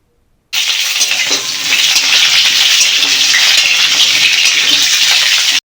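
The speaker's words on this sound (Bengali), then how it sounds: "আলু এবং পটলটাকে ভালো করে ভাজতে হবে।" Potatoes and pointed gourd fry in a pan with a loud, close, dense sizzle that starts abruptly and holds steady, with no talking.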